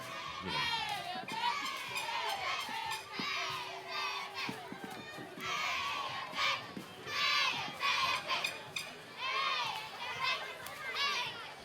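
Cheerleaders from a Fellowship of Christian Cheerleaders squad performing a cheer at a Christmas parade in Leesburg, with high shouted girls' voices rising in repeated bursts over a noisy outdoor crowd.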